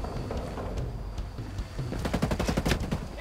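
Rapid automatic gunfire in the video game Ghost Recon Breakpoint, a burst of quick repeated shots building in the second half after a quieter stretch of distant pops, no talk over it.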